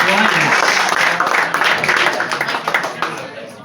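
A comedy-festival audience breaks into loud, dense applause for a comedian, with a thick wash of clapping that thins out gradually over a few seconds, mixed with cheering voices.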